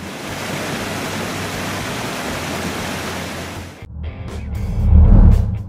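A very large waterfall rushes in a dense, steady roar for about four seconds, loud and close, before the sound cuts away to a quieter, lower rumble.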